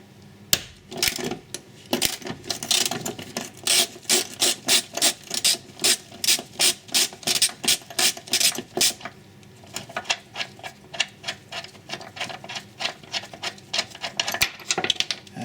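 A ratchet turns a 17 mm seatbelt anchor bolt on the rear seat of an Audi A6, with rapid rhythmic clicking bursts close up, a brief pause, then another run of quicker, lighter clicks.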